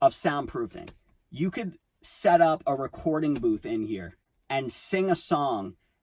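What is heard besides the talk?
None of the usual background noises is heard.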